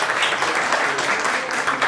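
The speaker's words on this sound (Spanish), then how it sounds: "Un aplauso a la profesora Marcela." Steady applause from an audience at an academic conference session, honoring a teacher after her talk; dense, even clapping fills the short stretch at close range with no voices.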